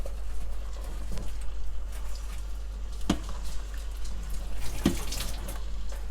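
Water poured from a tap into an Instant Pot while making lamb nihari, a steady faint running splash with a few louder knocks and clunks against the pot.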